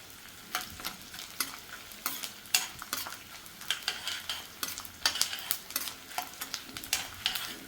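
Edible gum fries in hot ghee on a low flame, gentle sizzling under frequent scraping strokes of a spoon against the pan, close and moderately quiet.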